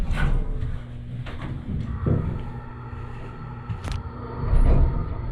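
A 1996 Pine State hydraulic elevator motor in the Washington Street Mills, Dover, NH, hums low and steady with clunks and rattles, a heavier bump near the end.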